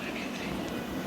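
A train in the Roblox game Brookhaven rumbles steadily underground, a continuous close rolling drone with no distinct clicks, lasting about a second with no speech.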